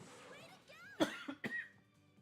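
A few sharp coughs from a person while playing Digimon World: Next Order, two close bursts standing out over quiet game music and background sound.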